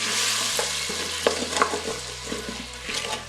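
Diced hothouse tomatoes with bay leaves and oil are stirred inside an Instant Pot, a spoon scraping and clacking against the pot over a steady sizzle, close and moderately loud, with background music.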